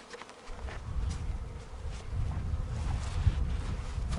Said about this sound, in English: Got my first swarm. I don't know, there might be 2 pounds of bees there at the most.